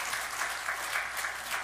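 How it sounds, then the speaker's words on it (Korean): A church congregation applauding, a dense, even patter of many hands clapping together that carries steadily across the short stretch with slight swells, moderately distant. "영광의 박수로 하나님 앞에 올리겠습니다"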